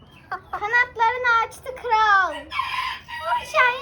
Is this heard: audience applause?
no